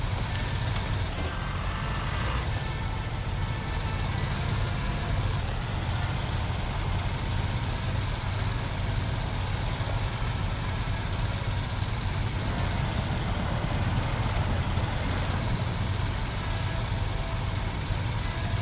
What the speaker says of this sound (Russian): у УАЗика явно мощнее движок